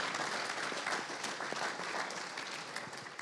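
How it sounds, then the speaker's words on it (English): An audience at a security conference event applauds in a steady, dense round of clapping that holds evenly and tapers slightly toward the end. "Clap, clap, clap"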